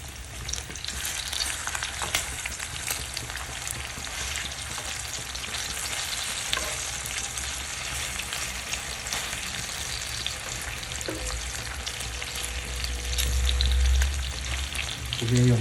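Pork tocino, Pampanga style, sizzles and bubbles steadily in a pan as its sugary liquid boils down, with occasional stirring scrapes and a louder burst of frying near the end.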